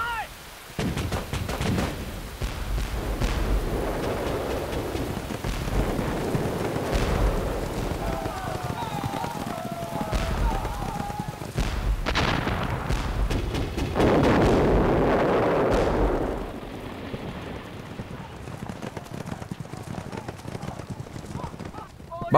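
Artillery barrage in a war film set in heavy rain, with deep booms and rumbling blasts rolling under shouted voices and busy battle noise.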